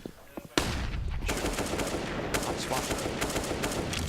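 Rapid automatic gunfire in a Counter-Strike: Global Offensive match, a sharp shot followed by dense sustained bursts, loud and close, with a commentator's voice faintly underneath.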